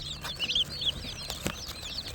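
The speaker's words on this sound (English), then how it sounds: "Well, we got ducks in the box." Young ducks in a box give repeated high, thin peeping calls, with a few soft knocks and rustles, fairly close and quiet.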